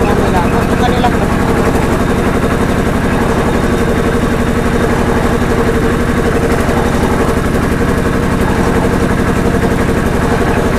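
A sugarcane crushing machine's engine runs steadily nearby, a loud, continuous rapid chugging rumble with a rattling pulse that holds unchanged for the whole stretch, with faint voices beneath.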